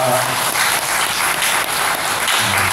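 A crowd at a church gathering stands and claps steadily and densely throughout, a continuous wash of applause filling the room.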